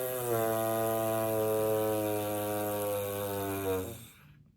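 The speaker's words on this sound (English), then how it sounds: "notice how my cheeks don't puff as I blow out and buzz" A steady lip buzz into a trombone mouthpiece, held as one continuous pitched drone for nearly four seconds with a bright rich tone, then cutting off abruptly.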